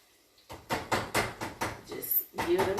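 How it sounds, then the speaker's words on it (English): Half a lemon being zested with a handheld zester, a series of quick rasping scrapes in a steady rhythm, close and fairly soft. "I'm going to zest this entire half."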